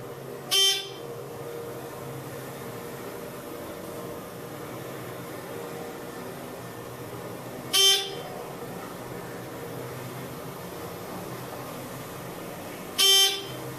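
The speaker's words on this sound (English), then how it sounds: "And yes, we get to hear that Dover buzz." A Dover hydraulic elevator gives three short, sharp buzzes spaced several seconds apart over a quiet, steady hum during the ride.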